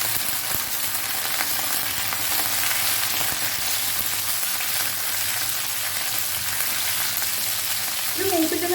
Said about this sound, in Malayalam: നമുക്കൊന്ന് മൂപ്പിച്ചെടുക്കാം.